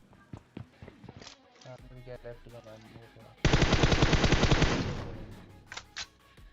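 A sustained burst of rapid automatic gunfire in PUBG Mobile erupts after scattered single shots and clicks, loud and close, with a voice faintly heard underneath.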